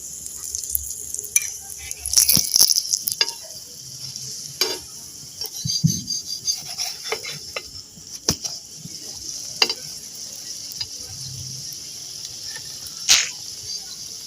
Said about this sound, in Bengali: এই উল্টে পাল্টে আমি পরোটাটা ভেজে নেবো